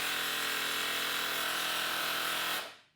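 The small motor of a cheap battery-powered foam sprayer runs in a loud, steady, close buzzing whine for about two and a half seconds, then winds down quickly to silence.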